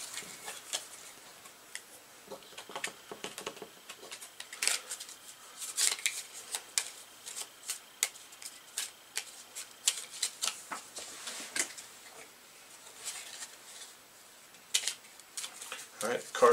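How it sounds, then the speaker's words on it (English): Playing cards from a board game deck shuffled at close range, a rapid run of light papery riffles and taps repeating throughout at a soft level. "so we shuffle all the cards back into the deck that have been played"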